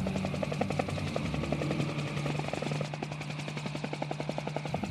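A helicopter flies at close range, evacuating injured people during the 1976 Soufrière volcanic crisis in Guadeloupe: a steady, loud rotor chop throughout, with rhythmic blade beats over a constant engine drone and no talk.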